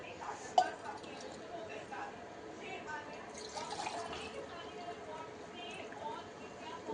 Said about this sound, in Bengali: আজকে আমার ছেলে ওর বাপির টিফিন ধুয়ে দিচ্ছে দেখো